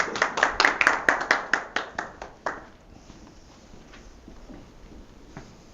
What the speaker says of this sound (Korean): 뜨거운 손뼉 부탁드립니다.